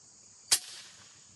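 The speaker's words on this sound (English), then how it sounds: "put some rounds on steel" An Umarex Zelos air pistol fires a round at a steel target, giving one sharp, brief crack followed by a short fading ring. Behind it, a faint high insect buzz carries on.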